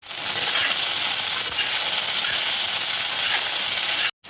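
Onion, garlic, dried and green chillies frying in oil in a wok: a loud, steady, dense sizzle that carries on unbroken before cutting off abruptly at the end.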